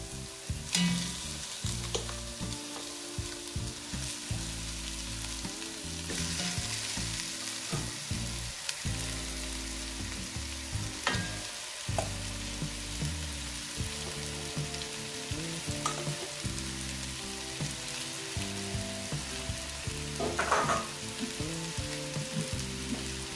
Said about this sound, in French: Et je vais poser mon lapin sur ce lit d'oignon.